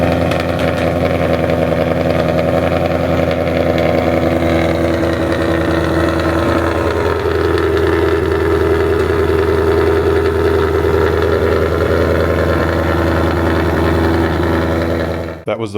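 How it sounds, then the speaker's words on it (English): A 2024 Ford Mustang S650 fitted with long tube headers fires up from cold, settling into a loud, steady, rumbling idle that holds close and continuous before stopping suddenly at the end. "That was the first cold start on the S650 with the long tube headers installed."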